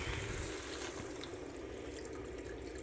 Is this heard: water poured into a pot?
yes